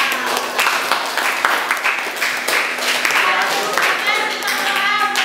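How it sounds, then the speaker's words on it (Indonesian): Dense, loud clapping from a classroom of students applauding a presenting group, steady and close for several seconds with a few young voices mixed in. "Kita kasih aplaus untuk kelompok A."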